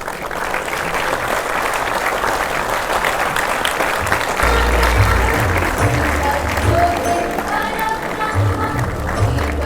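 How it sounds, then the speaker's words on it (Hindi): A large audience at a Central Secretariat Service Day ceremony gives sustained, loud applause to welcome the guests. The clapping forms a dense, even roar throughout, with faint voices mixed in beneath it. "एक बार जोरदार तालियों के साथ स्वागत कीजिए हमारे सभी अतिथियों का"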